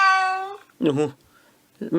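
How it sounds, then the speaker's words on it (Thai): A synthesized cat meow played by Siri on an iPhone running iOS 14.3, a clear drawn-out tonal meow followed by a person speaking briefly. "เสียงของแมว แมวออกเสียงอย่างนี้"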